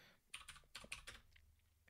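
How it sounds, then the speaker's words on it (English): Quiet clicky keystrokes from a mechanical keyboard tap in a quick irregular burst, faint and close, with no talking. "apologies if you can hear my mechanical keyboard"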